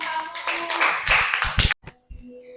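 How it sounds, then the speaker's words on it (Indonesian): Students in a classroom clap for a presenting group, a short burst of close, sharp handclaps that stops abruptly, followed by a moment of quiet and a few scattered claps. "Berikan tepuk tangan untuk kelompok 1."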